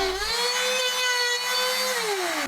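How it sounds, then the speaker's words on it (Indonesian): A router spins to cut circles in PVC pipe, giving a loud, high, steady whine with a bright buzzing edge that rises at the start and winds down at the end, with no voices. "Kita kunci kedalaman routernya, baru router memutar membentuk lingkaran."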